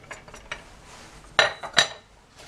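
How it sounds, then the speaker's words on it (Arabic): A spoon stirs warm milk, yeast and sugar in a bowl, with light scraping clinks and two louder strokes near the end; quiet, close and without speech. "اديهم تقليبه كده حلوه"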